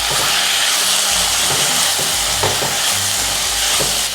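Jowar upma with mixed vegetables and chopped tomato cooks in a pan, giving a steady, close sizzle and hiss with occasional stirring scrapes and soft knocks throughout, with no talking.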